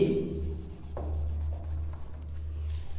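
A board eraser rubs across a classroom board during a lesson on linear equations, making soft scrubbing strokes with a couple of sharper knocks, under a steady low background hum.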